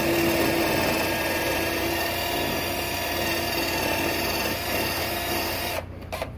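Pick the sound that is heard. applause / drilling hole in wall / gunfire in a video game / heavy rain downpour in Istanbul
drilling hole in wall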